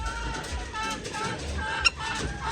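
White Leghorn chickens cluck and murmur in a breeding pen, with a brief sharp squawk near the end.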